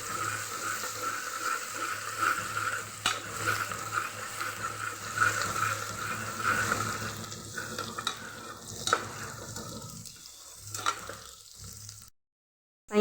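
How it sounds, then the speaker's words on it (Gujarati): Steady sizzling of onion and garlic frying in oil with asafoetida in a pressure cooker, with occasional stirring scrapes, close by; the sizzle drops away near the end. "અહીંયા આપણે અડધી ચમચી હિંગ નાખીને ડુંગળીનો ને લસણનો વઘાર કરશું"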